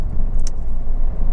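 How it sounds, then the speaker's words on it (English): A Honda Civic 2.2 i-CTDi diesel engine idles with a steady, even, low rumble close by, and a single light click occurs early on. "Car starts absolutely instantly and settles to a completely smooth, even idle."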